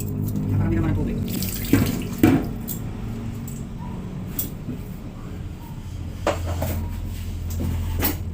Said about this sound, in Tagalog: Hugasan mabuti ang bigas.